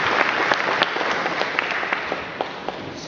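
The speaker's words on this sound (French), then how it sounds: "On peut les applaudir." An audience applauds a visiting choir from Nancy in Lorraine, with steady, dense clapping that holds at an even level for a few seconds and has scattered sharper claps above the wash.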